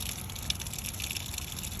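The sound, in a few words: washing machine filling with water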